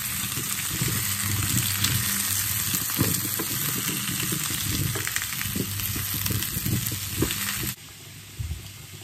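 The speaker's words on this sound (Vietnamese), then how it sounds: "Khoai tây với khoai lang mình cũng cho vào chiên sơ lên." Potatoes and sweet potatoes fry in a pan of hot oil, a steady close sizzle with occasional stirring that cuts off abruptly near the end.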